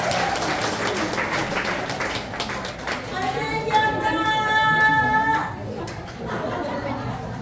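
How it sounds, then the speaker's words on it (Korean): An audience at a business club gathering claps ahead of a singer's final song, a moderate applause mixed with chatter and voices, with a sustained musical tone entering midway. "박수 크게 부탁드리겠습니다."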